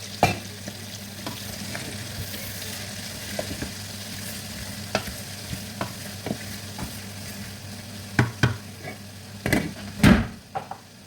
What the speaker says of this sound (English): I'm going to go in with the onions, guys. So this is onions. So we have to fry it together.